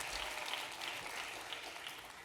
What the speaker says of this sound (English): you can applaud for Councilmember Rita Joseph